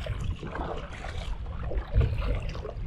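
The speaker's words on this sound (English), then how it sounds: "Windy conditions," Wind gusts buffet the microphone aboard a fishing boat on tidal water, a low rumbling roar that swells and eases over a few seconds with no talk.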